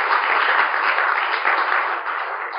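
An audience applauding at a public talk, a continuous wash of clapping from many hands, loud and even throughout, fading slightly at the end.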